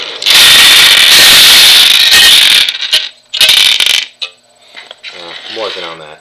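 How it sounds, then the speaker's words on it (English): Dice tumble inside a dice roller as a loud, sustained clattering rattle. It cuts out briefly, then returns in a second short burst. A voice speaks faintly near the end. "I still haven't figured out how to make the dice not sound like a friggin' avalanche"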